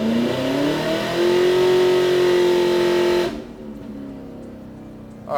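A supercharged Pontiac G8 running E85 revs hard under full acceleration, its rising engine note loud and close for about three seconds before cutting off abruptly, leaving a quieter idle-like rumble with no talking.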